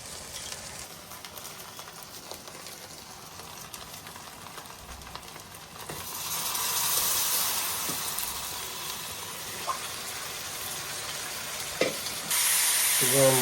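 Ground spices such as turmeric, chili, coriander and cumin sizzle in a hot pot of beef, a steady close frying hiss that swells louder midway, with stirring scrapes and occasional clinks over the continuous crackle.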